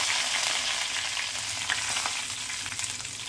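Raw banana pieces and curry leaves fry in oil for a Kerala stir-fry, a steady close sizzle with occasional light stirring and no talk.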